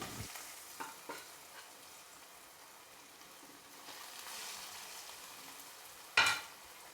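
Falafel frying in oil over a medium flame, a soft steady sizzle with a few faint clinks and a sharper clatter near the end.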